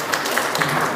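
An audience in a church fellowship gathering claps. The applause is fairly loud and the crowd sounds dense and close, filling the whole moment with steady patter.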